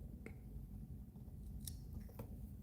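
Small scissors trimming off thread while tying a mayfly fly: a few crisp, brief snips heard close against a constant low rumble, with no talking.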